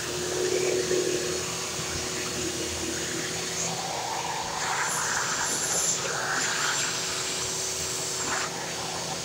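A Bissell Big Mess vacuum cleaner runs continuously close by, a steady loud motor drone with airy hiss and slight shifts in tone as it works, with no pauses throughout.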